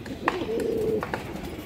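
Domestic pigeons kept for sale coo close by: a single soft, throaty, drawn-out coo with a few faint clicks and rustles around it.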